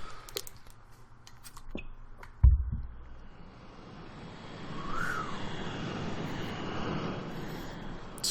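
Airplane engine in the video game Trials Evolution, with a sharp thump followed by a steady, rising roar of the engine that swells and holds loud to the end.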